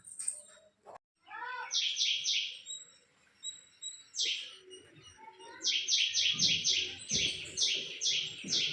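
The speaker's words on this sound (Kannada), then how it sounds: "ಗುಬ್ಬಚ್ಚಿ ಹಂಗೆ ಸೌಂಡ್ ಮಾಡಾಕೈತಿ" Bursts of rapid, high chirping from a house sparrow, close by, in several quick series separated by short pauses, with faint background noise.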